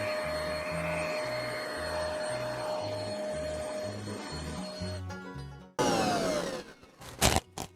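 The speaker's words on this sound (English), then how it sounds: "I'm gonna grab a vacuum and get that out of there" A vacuum cleaner hums steadily, its pitch shifting as it cleans out a wood pellet stove, then a louder burst with rattling and clicks as debris is sucked up near the end.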